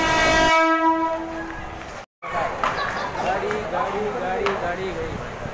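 Mumbai local train bound for Borivali at Malad station, horn sounding in a long steady blast before the rumble and clatter of the moving train take over, with voices talking over it.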